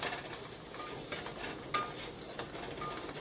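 All-purpose flour being whisked into a nacho cheese sauce, a continuous close scraping and swishing with light metallic clinks against the pan, no voices.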